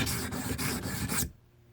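A steel chisel rubbed back and forth on a sharpening stone, with steady rasping strokes, close and fairly loud, stopping abruptly near the end.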